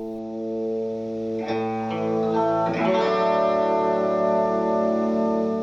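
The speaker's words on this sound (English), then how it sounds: "Using a stereo output chorus pedal and 2 AC30s" Sustained electric guitar chords through a stereo chorus pedal and two Vox AC30 amps, with a shimmering, warbling chorus effect, full and wide, played alone with no voices.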